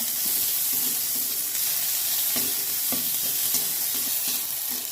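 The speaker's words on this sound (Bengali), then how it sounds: "পেঁয়াজটাকে একটু ভেজে নেবো একটু টমেটো কুচি এটাকে আমি ভেজে নেব" Onion and chopped tomato frying in a hot pan, a constant close sizzle and hiss broken by repeated stirring scrapes, with no voices.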